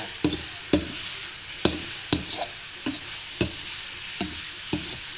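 Minced pork dry-fried without oil in a pan for Lao-style larb, with a steady sizzle broken by regular scraping strokes of a spatula, about ten in five seconds, close and fairly loud, with no talking.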